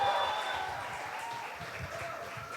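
An audience claps for a nervous contestant at a pre-final round speaking competition, a steady, dense patter of applause filling the hall throughout, close and moderately loud.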